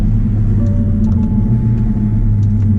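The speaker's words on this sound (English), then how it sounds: "I don't know how well you can hear these downshifts" Steady low engine rumble from a 360 bhp Mercedes A45 AMG heard from inside the car on the road, continuous and fairly loud with small shifts in tone as it downshifts, and no one talking.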